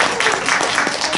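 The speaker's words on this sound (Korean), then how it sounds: "그럼 박수 한번 쳐줍시다" A room of children applauding together, a dense, continuous patter of many small hands clapping at close range with a faint voice mixed in.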